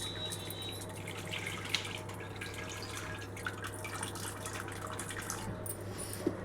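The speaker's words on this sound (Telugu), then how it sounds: "చూడండి, ఇలా సరిపడినన్ని నీళ్ళని పోసుకోవాలి." Water poured over soaked tamarind as it is strained for a fish tamarind curry, a steady close trickle and drip with a faint low hum underneath and occasional small clinks, no talking.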